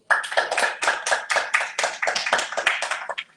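A church congregation claps in a quick, uneven burst of strong hand claps for about three seconds, then stops abruptly. No one speaks.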